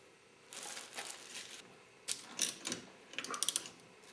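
A gear puller working a gear off a Yamaha YZF600 engine during teardown, giving soft mechanical ratcheting clicks and creaks in short irregular bursts that grow sharper near the end, close by in a quiet room.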